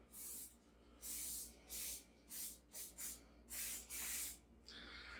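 Several short bursts of vegetable oil cooking spray onto a spatula hiss in a quick, uneven series, close and fairly loud, with quiet pauses between them.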